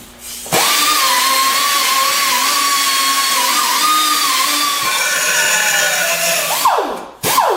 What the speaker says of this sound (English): So I'm going to grind. I'm going to brush off a little bit of that soot